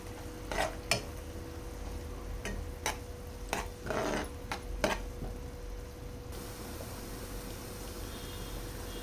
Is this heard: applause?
no